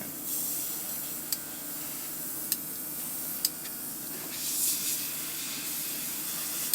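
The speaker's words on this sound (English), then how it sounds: "Let me just get the spray paint over here a little bit." A steady hiss of black spray paint from an aerosol can, close and continuous, with a few faint clicks from the nozzle.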